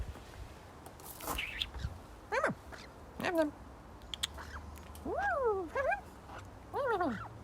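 A small pet bird calls close by in repeated sharp, rising-and-falling chirps and squawks, while a person talks in between the calls.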